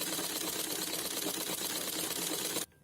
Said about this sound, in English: Yes, this is how you professionally thread the bobbin.